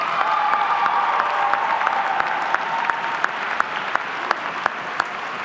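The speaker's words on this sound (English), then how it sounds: "Now, give them a round of applause as a show of your gratitude." A graduation crowd applauds at a high school ceremony, a sustained, even roar of many hands clapping with a few sharp individual claps popping out over a steady wash and a faint tonal hum.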